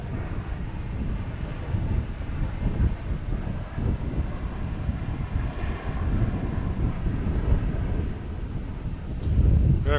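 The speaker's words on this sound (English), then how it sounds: "That wind's really blowing the reverse thrusters sound our way." American Airlines Boeing 737-800 landing at Boston Logan Airport with reverse thrust, a distant broad rumbling roar carried on wind, heavy wind buffeting the microphone throughout.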